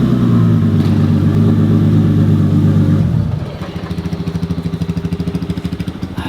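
A turbocharged 2JZ-engined Lexus IS 300 pulls hard with a loud, droning engine roar, then drops off the throttle into a rapid, pulsing burble, close and with no talking.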